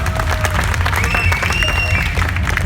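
Enthusiastic audience applause welcoming a DJ at a BPM interview event, dense and continuous clapping close up with whistles and cheers rising through it.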